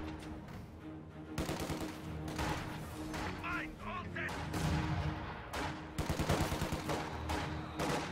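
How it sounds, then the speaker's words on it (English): Mortar and gunfire bursts in a real-time strategy game fire in irregular clusters of sharp reports over a busy battle soundscape, with a commentator's voice running underneath. "Mortar firing on these conscripts."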